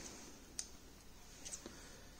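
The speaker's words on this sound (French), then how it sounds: "Je prends ma paire de ciseaux" Scissors snip through a thread knot on a handmade bracelet, giving two faint, brief clicks about a second apart in an otherwise quiet room.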